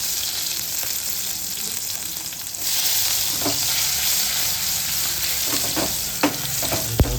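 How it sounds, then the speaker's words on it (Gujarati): Onion and tomato sizzle in hot oil with cumin for paneer bhurji, a steady close hiss that swells louder partway through, with occasional clinks and scrapes of a spoon against the pan. "કાંદા ટમેટાનો વઘાર કરી નાખીએ।"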